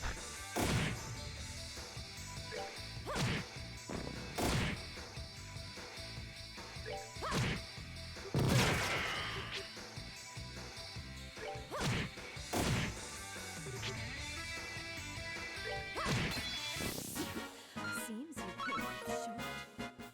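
Combat in the video game Trails in the Sky the 3rd: a steady string of sharp smashing and whacking hits with swooshes, landing every second or two over game music, with no talk.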